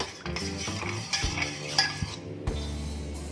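A spoon stirring dry ginger powder and cardamom powder into water in a metal vessel for panakkam, a Tamil summer drink, giving steady scraping and clinking with a few sharper knocks, close and alone.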